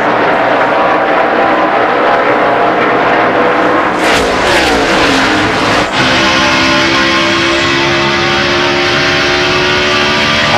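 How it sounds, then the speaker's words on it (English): NASCAR stock cars roaring past at the 2002 Southern 500, a loud, continuous engine drone with a sharp pass-by swell midway through, heard without commentary. "That might have been the 21 car that we caught going through there because he's out there, Elliott Sadler, on fresh tires."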